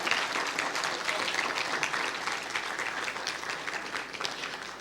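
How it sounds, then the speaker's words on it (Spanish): A church congregation applauds during a Spanish-language worship service, dense sustained clapping filling the room at an even level. "Y si quieren darle un fuerte aplauso al Señor, hágalo con confianza, hágalo con seguridad."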